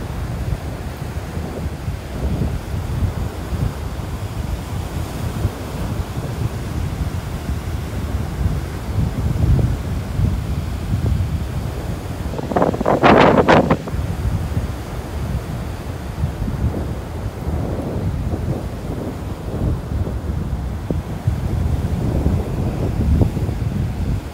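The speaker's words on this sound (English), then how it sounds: "That nice breeze." Sea breeze buffets the microphone on a beach in North Naples, Florida, a loud, steady roar of wind with soft surf beneath it and one brief, sharper gust partway through.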